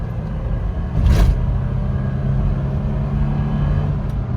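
A third-generation Toyota 4Runner on new tires accelerates, a steady low engine drone and road rumble with a brief louder swell early on, heard from inside the cabin.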